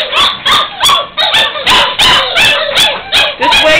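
Puppies in a litter yipping, whimpering and barking in quick overlapping bursts that sound close and fairly loud, with no long drawn-out howl standing out.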